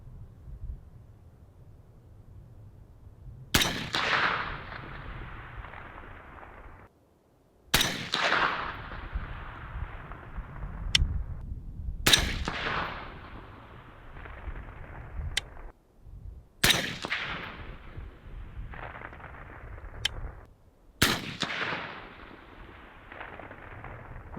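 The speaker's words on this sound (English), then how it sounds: "We'll take 5 shots." Six sharp, loud 6.5 Grendel rifle shots firing Hornady 100 grain ELDVT ammunition at an outdoor range, spaced a few seconds apart, each a hard crack with a ringing decay and no talking between them.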